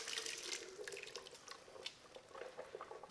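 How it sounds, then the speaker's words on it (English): Chopped vegetables and broth poured into a strainer give a continuous close watery splashing and trickling, with small drips and no speech. "I'm going to pour the veggies that we just chopped into the strainer"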